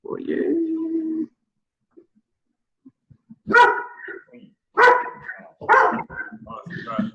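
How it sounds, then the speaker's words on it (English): A dog barks several times indoors, a few sharp, loud barks and yips in quick bursts after a short whine, with a person speaking nearby. "Is that someone's dog?"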